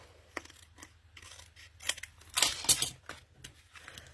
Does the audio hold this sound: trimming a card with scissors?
yes